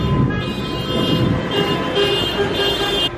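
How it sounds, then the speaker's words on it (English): Car horns honk repeatedly over a steady wash of traffic noise in Mexico, sustained tones overlapping at moderate distance. "They're still honking."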